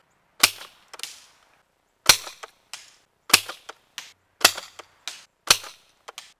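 Supermaxx 5000 foam blaster, breeched, firing ball-bearing-weighted, straw-reinforced foam dome darts: six sharp, loud shots spaced about a second apart, each a crisp pop followed by short clattering echoes, with no talking.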